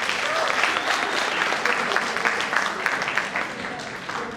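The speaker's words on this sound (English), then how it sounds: "I think they deserve a big round of applause." An audience at a Doctor's Day celebration applauds, close, dense clapping from a sizeable crowd that stays lively throughout with a few louder claps standing out.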